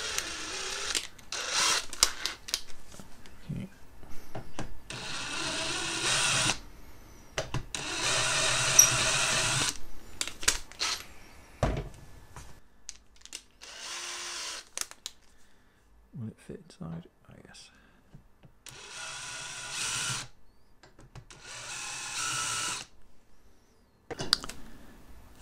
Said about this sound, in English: we'll break these edges with, this is a snail countersink